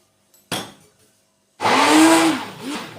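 A blender whirs through banana, dates, almonds and milk for a shake: a short clunk, then after a pause the motor kicks in with a loud, rising whine that holds and dips slightly near the end.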